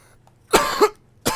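A person coughing hard after smoking a dab hit: two loud, raspy coughs close together, then a third after a short pause, each close to the mic with no talking.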